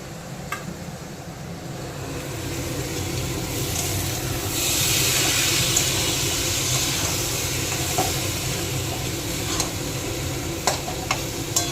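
Broken wheat and lentils fry in a pan, sizzling steadily and close while a utensil stirs and scrapes with occasional sharp clicks, without talking.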